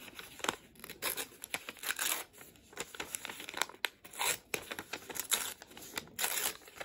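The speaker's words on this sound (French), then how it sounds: "On prend le papier et on va couper le bord." Repeated snipping and crisp rustling of scissors cutting through paper, close and fairly quiet, in irregular quick bursts.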